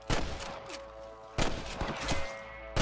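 Three short bursts of rapid gunfire in the video game Red Dead Redemption crack out at a steady pace, loud and close, with a faint tonal hum in between.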